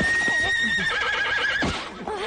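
A horse neighs loudly close by, its shrill whinny wavering and then trailing off, with faint hoofbeats and stable noise underneath, in a 1995 frontier-ranch drama.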